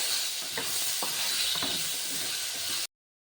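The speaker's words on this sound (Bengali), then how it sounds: "আলুগুলিতে আমি কিছুটা পরিমাণ হলুদ গুঁড়ো দিয়ে দিচ্ছি সামান্য একটু নুনও দিয়ে দিচ্ছি প্রথমে আলুগুলি একটু হালকা ভেজে নেবো" Potatoes dusted with turmeric powder and a little salt fry lightly in a pan over a medium flame, giving a steady close hiss with a few soft stirring clicks, then stopping abruptly into silence.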